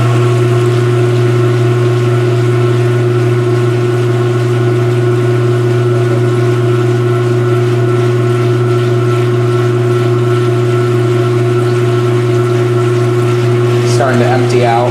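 A 2022 Speed Queen C Series washing machine pumps out rinse water on a heavy duty cycle, a loud steady drain-pump hum that runs throughout, with a brief voice near the end.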